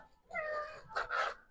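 A ginger cat lets out a close, clear meow, then a quick two-part cry, all within a second and a half against a quiet background.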